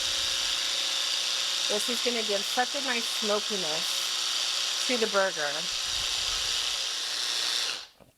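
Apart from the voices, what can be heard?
blender blending chipotles for black bean burgers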